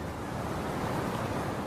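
Sea waves on an equatorial island coast give a brief, steady broadband roar of surf and rushing water, with no distinct breaks and a wind-like hiss.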